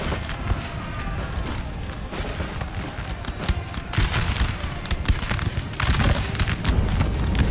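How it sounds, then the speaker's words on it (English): Infantry volleys of musket fire in Napoleon Total War crackle and pop in dense, overlapping bursts, a loud and continuous battlefield barrage that swells toward the end. "We've got infantry units firing up."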